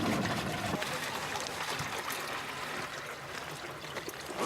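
Water poured back into a watering can while sampling earthworms makes a steady splashing trickle throughout, with a voice talking over it.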